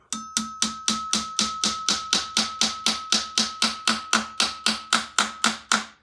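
A steel hammer taps a part into place during a manual gearbox rebuild in a fast, even rhythm, about twenty sharp ringing strikes on metal close by, with no talking.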